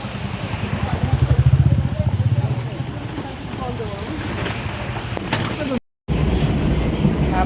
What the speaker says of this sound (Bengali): আমরা ট্রেনে উঠে গেছি